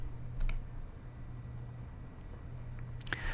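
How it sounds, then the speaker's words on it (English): Two soft computer mouse clicks, one early and one near the end, sound against a quiet room hum while a document is being saved. "I'm just going to click save."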